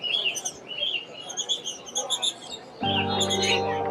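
Caged birds at the Mirpur-1 bird market in Dhaka chirp and tweet continuously in a busy, overlapping chorus of bright calls, with a louder burst of broadband market noise joining near the end.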